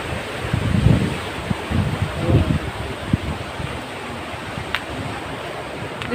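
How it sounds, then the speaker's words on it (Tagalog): Strong ocean waves at Fortune Island roar as loud broadband surf with wind buffeting the microphone, surging in a few heavier rushes early on before settling into a steady wash. "Ang lakas ng alon guys."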